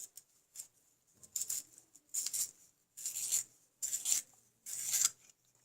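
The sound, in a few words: sharpening a raspberry-colored pencil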